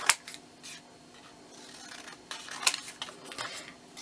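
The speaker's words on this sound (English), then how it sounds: "I would like to cut some of these out" Scissors cutting out small paper pieces for a craft project, a few close, crisp snips and rustles spread across a quiet moment.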